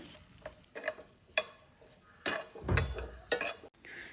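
Potato pieces being sautéed in a pan for a Malayalam brinjal and potato dish, with scattered soft sizzles and intermittent stirring scrapes, moderately quiet with no talking.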